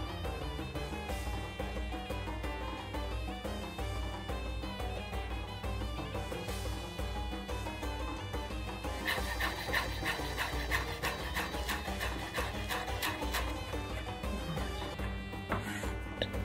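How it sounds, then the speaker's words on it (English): A knife finely chops half a bunch of parsley for a Moroccan fish tagine. Soft rubbing at first gives way to a run of quick, close, rhythmic taps against a cutting board, with a tonal background underneath. "Half a bunch of parsley, chop it fine as well."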